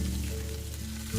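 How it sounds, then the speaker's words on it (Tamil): Steady oil sizzle of sliced onions and curry leaves frying in a pan, loud and close, with a brief stir near the end. "சோம்பு பொரிஞ்சோடனே நைஸாக நறுக்கின ஒரு வெங்காயம், கொஞ்சம் கருவேப்பிலை சேர்த்துட்டு நல்லா வதக்கி விடுங்க."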